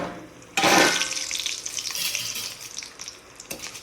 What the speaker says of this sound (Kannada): ಇದೊಂದು ಫ್ರೈ ಆವಡು